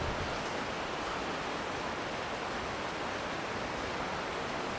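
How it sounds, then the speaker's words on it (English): Water runs steadily in a stream beside a large chunk of leftover glacier ice on New Zealand's South Island, a continuous broadband rush with no pauses. "You can hear the water running in there in the background."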